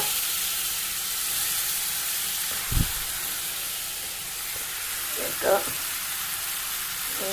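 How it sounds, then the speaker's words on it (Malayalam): Chilies and curry leaves frying in hot oil make a constant close sizzle and hiss, broken by a couple of brief knocks from stirring. "ഇതിൽ കിടന്ന് പൊരിയട്ടെ അസ്സലായി അസ്സലായി അസ്സലായി വേവട്ടെ"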